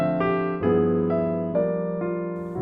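Jazz chord turnaround on a keyboard-like instrument, each chord held for half the usual beats, giving five quick, evenly spaced chord changes that ring clearly with no talk.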